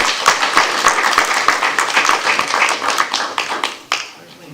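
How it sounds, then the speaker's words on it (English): Audience at a school board meeting applauding a varsity wrestling team, a dense burst of many hands clapping that carries on steadily and then quickly fades out near the end. "let's give Bamberg Gerhardt Wrestling for varsity a round of applause."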